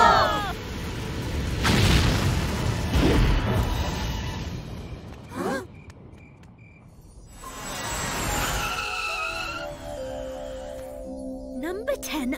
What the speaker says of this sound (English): 3. 2. 1. Blast off!